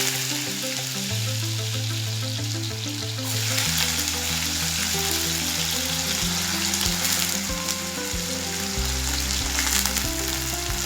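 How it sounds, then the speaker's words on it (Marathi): Finely chopped potato fries in ghee with a continuous sizzle. Steady tonal hums sit underneath, and the sizzle swells slightly partway through without any speech. "बटाटा चांगला तुपामध्ये चांगला परतला की त्याची चवही चांगली लागते."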